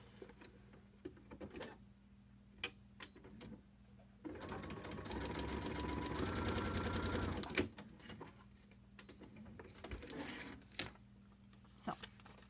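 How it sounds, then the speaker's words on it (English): A sewing machine runs in one steady burst of about three seconds, stitching paper-pieced fabric for a heart block, with quieter handling clicks before and after. "I'm going to sew them from that line to that line"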